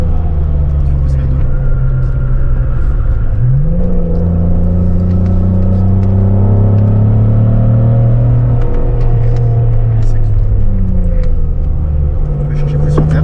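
Citroën Xantia Activa V6 engine droning steadily on the Nordschleife, its pitch dropping at a gear change into second and then climbing again, heard from inside the car with constant road and wind rumble and people talking over it.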